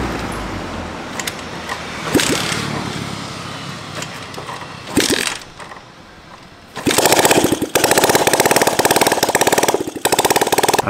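A Yunbao 200 motorcycle's single-cylinder OHV engine runs after a rebuild, loud enough to suggest excessive valve clearance; after a rough, uneven stretch with brief pauses it settles into a steady, loud, close-up mechanical clatter with no talking.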